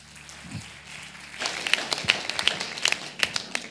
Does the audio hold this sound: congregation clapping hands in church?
yes